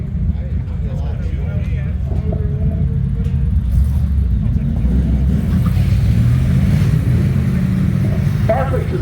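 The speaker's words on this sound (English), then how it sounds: "It's a Chevy S10 pickup truck with a 300 cubic inch Buick" Engine rumble from a Chevy S10 pickup with a 300 cubic inch Buick V8 at a drag strip, a steady loud low drone throughout with crowd and voices faintly mixed in.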